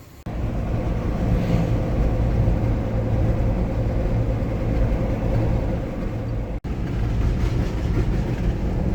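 A Jeep drives on the road while towing a U-Haul trailer: a steady, loud, low rumble of engine and road noise from inside the cabin, with a brief clunk partway through.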